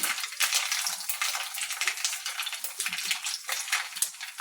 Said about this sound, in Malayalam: നമ്മുടെ കടുക് പൊട്ടി നമുക്ക് 3-4 ചുവന്ന മുളകിടാം.